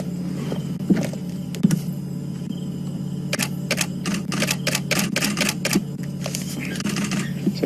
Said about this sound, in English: So if you hear the clicking, it's Scott and my camera